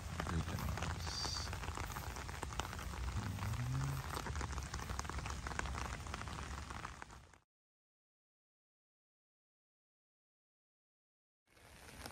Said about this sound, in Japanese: すごい雨なんだけど